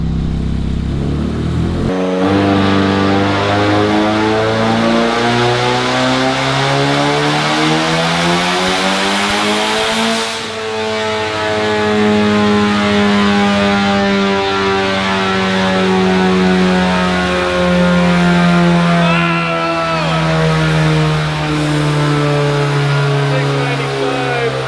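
A fully built big-turbo EcoBoost Mustang engine revs hard and loud toward 7,000 RPM. Its pitch climbs steadily, dips briefly, then holds at a high, sustained roar.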